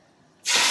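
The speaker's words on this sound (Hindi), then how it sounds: "अब हम इस पे अपना तड़का डालते हैं" A sudden loud, bright sizzling hiss bursts in after a quiet moment and keeps spitting steadily as hot oil tempering hits kadhi pakora curry.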